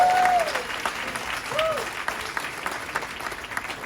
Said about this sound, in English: clap it up for me one time